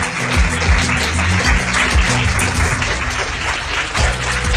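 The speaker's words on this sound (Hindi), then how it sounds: "जोरदार तालियां।" Loud, steady applause from a studio audience on a Hindi reality show, a dense wash of clapping lasting several seconds with a low musical bed beneath it.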